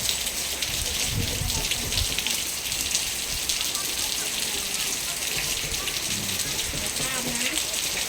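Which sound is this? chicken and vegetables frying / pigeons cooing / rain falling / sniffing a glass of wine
rain falling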